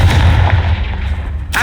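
A single Confringo blasting spell fired in the Hogwarts Legacy video game, landing as a loud, deep booming blast that rumbles briefly and then fades.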